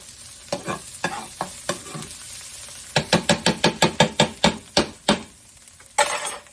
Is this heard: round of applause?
no